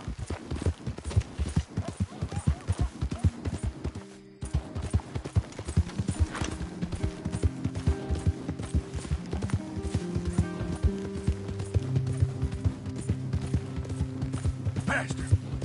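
Horse galloping in Red Dead Redemption 2, with rapid rhythmic hoofbeats close and steady throughout, briefly cut out once, while a rider urges it on and background music rises underneath.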